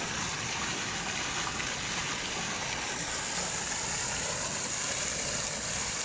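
Water fountains in Norrköping pour and splash in a constant, even gushing hiss, steady and fairly close, with no voices.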